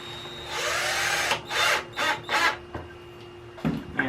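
A power drill drives 1¼ inch screws into the sides of a router cabinet, with a rising whine followed by several short, loud bursts of driving, close up with no talk.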